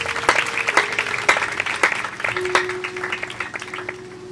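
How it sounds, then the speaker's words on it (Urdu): A Sunday church congregation claps after a sermon, sharp individual claps landing in an uneven rhythm, fairly close and gradually thinning out toward the end. "اس کلام کے لیے زوردار تالیاں بجائیے گا"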